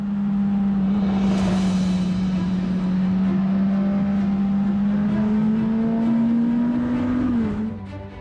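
A Suzuki GSX-S1000GT motorcycle runs at high speed on a test course, its engine holding a loud, steady drone with a slight pitch rise before easing off at the end.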